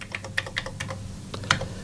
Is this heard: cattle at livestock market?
no